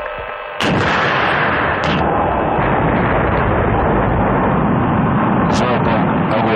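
A single loud blast of a Russian Shmel thermobaric rocket flamethrower firing at a target 100 meters away erupts abruptly, followed by a sustained, roaring wash of noise that continues to the end.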